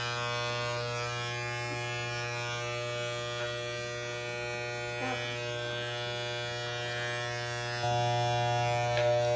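Electric hair clippers buzz steadily and close up while shaving the side of a woman's head, a constant motor drone with slight load changes as the blades pass, growing a little louder near the end.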